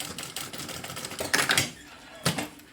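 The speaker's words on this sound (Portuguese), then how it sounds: "Então, eu vou costurar por esse lado aqui, ó. Em cima da primeira costura." Sewing machine stitching along the first seam of a fabric lining for a cosmetic case, heard as short close mechanical bursts of rapid chatter that start and stop, with a pause between runs.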